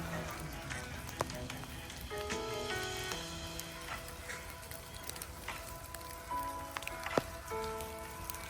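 Rain falls on a garden, a soft scattered patter of drops on leaves and surfaces with occasional sharper splashes and drips, fairly quiet and steady throughout, with birds chirping over it.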